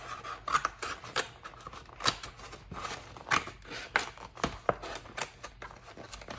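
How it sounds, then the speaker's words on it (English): Small cat paw scissors from a pen case are handled, giving a run of close, crisp snips and clicks in an uneven rhythm, with no speech over them. "I have little cat paw scissors that I keep in my pen case."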